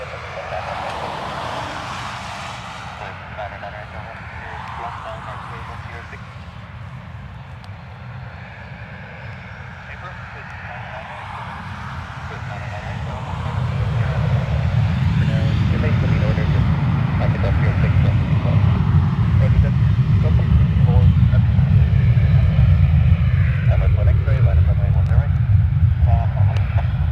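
A Ryanair airliner takes off from runway 10R at Dublin Airport, its engine roar building from a distant rumble into a loud, sustained thunder as it spools up, with wind buffeting the microphone.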